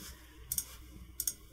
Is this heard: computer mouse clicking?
yes